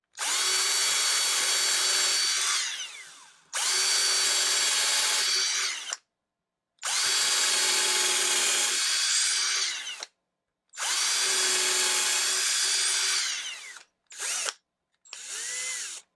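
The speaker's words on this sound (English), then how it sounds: "So I'll drill a hole here." An Altocraft 12V compact cordless drill whirs loudly drilling a hole in four long bursts separated by short pauses, followed by two quick brief spurts, close and steady in pitch.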